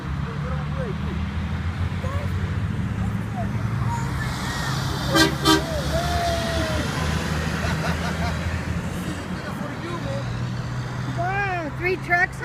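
Cars and trucks pass steadily along a road with a continuous low traffic rumble, and horns toot briefly partway through and again near the end, with people talking over the traffic.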